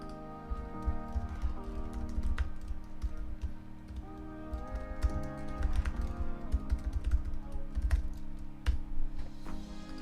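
Fingers type quickly on a computer keyboard at close range, a busy stream of soft clicks and taps over a faint steady background tone.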